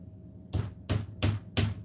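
Four hard hammer whacks on a part while assembling a Mainstays 5-shelf bookcase, evenly spaced and loud, close by, with no talking.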